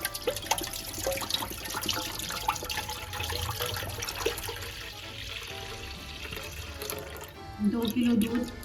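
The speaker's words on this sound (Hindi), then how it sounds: "इसमें मैं डाल रही हूँ ये दूध।" Milk pours into a lightly warmed pot on a lit stove for a gajrela carrot pudding, a steady liquid rush close by, with someone talking over it.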